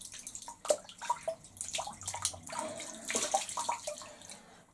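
Water runs from a sink tap while someone washes their face, a faint splashing and trickling with irregular splashes close by.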